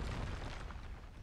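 The Expulso spell in the video game Hogwarts Legacy sets off a deep, booming blast that starts loud and then rumbles as it fades over about a second.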